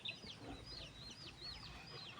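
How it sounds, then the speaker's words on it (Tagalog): A flock of chickens kept on a small backyard farm alongside pigs, faint distant clucking in quick repeated bursts over a low outdoor hum, with no talking. "ang daming manok ni Mother"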